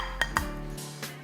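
Instant Pot cilantro lime rice is scooped into a bowl, bringing a few quick, light clinks of a utensil against the pot and dish, close and sharp, followed by a softer tap.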